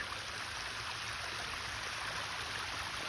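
Water pours steadily over a pond waterfall built from 5 to 6 inch river rock set in Portland cement, a constant near rushing splash with no talk.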